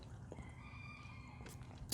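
Backyard chickens give faint, brief clucking sounds in a quiet outdoor setting, soft and somewhat distant over low background noise.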